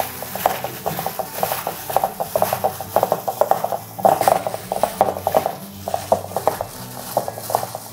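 Raw cauliflower florets are mixed by hand in a bowl with masala, cornflour, puttu powder and lemon juice for gobi 65, producing quick rhythmic clinks and scrapes at close range.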